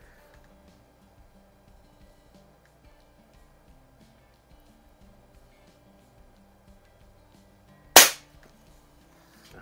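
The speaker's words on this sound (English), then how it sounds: "we'll shoot for a group and see how it goes" A single sharp crack from a Daisy 753S air rifle fired at a target, one loud short shot late in an otherwise quiet stretch with faint background rustle.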